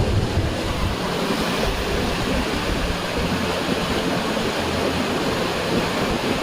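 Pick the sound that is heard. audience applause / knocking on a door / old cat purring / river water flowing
river water flowing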